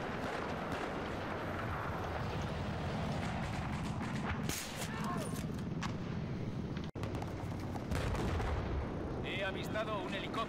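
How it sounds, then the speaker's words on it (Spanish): Battlefield 4 gunfire: repeated sniper shots and heavy booming blasts over a constant rumbling battle background, with a few brief voices mixed in. "Uy, qué buen disparo."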